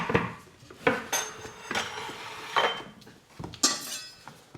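A kitchen knife cuts through a lemon into quarters on a board, giving a series of sharp, close knocks and clicks of blade meeting board at irregular intervals, with no talking.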